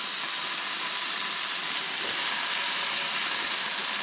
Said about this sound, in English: Now I'm going to go with a little ham in the skillet to get that kind of warming up